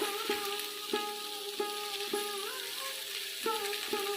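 Chopped ivy gourd (tela kuchi) leaves with turmeric frying in a kadai alongside potato and garlic: a constant close sizzle broken by regular ringing clinks of a utensil against the pan, no voices.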